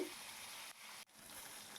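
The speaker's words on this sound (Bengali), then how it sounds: "এদিকে দেখো মাছগুলো প্রায় ভাজা হয়ে এসছে" Gurjali fish frying in mustard oil gives off a soft, faint, steady sizzle, broken by two brief dips toward silence partway through.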